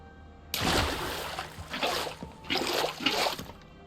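Minecraft water being placed, several short splashing, sloshing bursts in a game world, fairly close and moderately loud, separated by brief gaps, with no talk.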